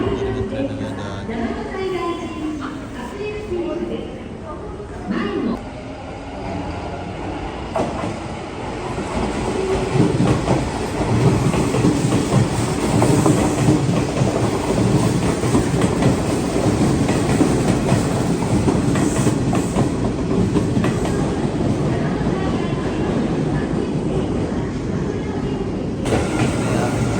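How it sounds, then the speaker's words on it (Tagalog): A train rolls past close by, a loud sustained rumble with rhythmic clickety-clack of wheels on rail joints that builds and stays heavy; voices are briefly audible early on. "Talagang tren na nadaan."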